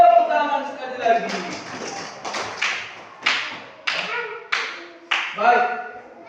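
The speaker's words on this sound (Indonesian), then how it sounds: "Tepuk tangan sekali lagi." Fifth-grade schoolchildren clap hands in a classroom, several sharp rhythmic bursts of claps spaced roughly a second apart, close and fairly loud, with a voice and children's voices in between.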